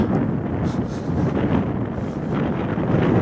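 Strong wind on the open Mongolian steppe buffets the microphone with a continuous, loud rumbling roar, gusting slightly throughout with no voices.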